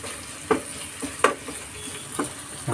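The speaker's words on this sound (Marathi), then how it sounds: "आता चांगला आपण परतून घ्यायचा आहे कढीपत्ता, मिरची आणि कांदा।" Curry leaves, green chilli and onion sauté in a pan: a quiet steady sizzle broken by several sharp scraping stirs of a spoon against the pan, close and without voices.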